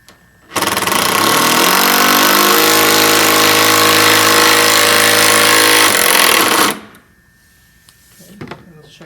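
A power drill drives a screw into wood for a shooting board, a loud close continuous whine lasting about six seconds with its pitch shifting as the screw sinks, then stopping abruptly into quiet.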